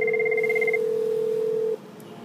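Cisco IP phone on a CME system rings with one steady electronic tone that holds for under two seconds, then stops, with no one speaking.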